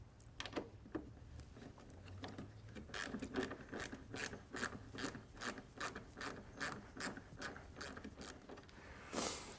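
A ratchet with a T30 Torx bit backs out the headlight screws on a Ford Transit. It gives a long run of quick, close pawl clicks, faint at first and then a steady rhythmic clatter of roughly twenty strokes.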